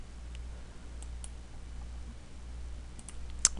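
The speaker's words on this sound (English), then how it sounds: "you want to right click and move it" Computer mouse right-clicks while working in 3ds Max: a few faint, dry clicks scattered over quiet room hiss, with one sharper click near the end.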